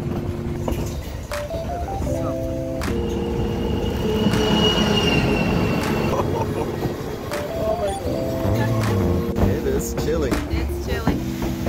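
The White Pass train rumbles steadily along the rails near the summit outside Skagway, with squealing wheels and a continuous heavy roll, close and loud throughout.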